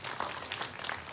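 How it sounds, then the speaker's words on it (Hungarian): A brief burst of steady audience clapping from a crowd at a clown show, dense and even throughout the short moment. "Nagy tapsot kérek neki."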